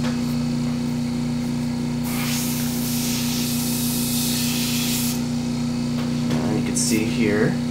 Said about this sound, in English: I'm using a Badger 150 double action airbrush.